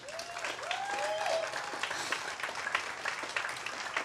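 Audience applause for event organizer Natalia at Prisma Day 2022, fairly faint sustained clapping from a crowd, with a few whistle-like rising tones near the start and brief voices mixed in.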